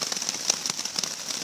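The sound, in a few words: rain falling on a hex tarp over a hammock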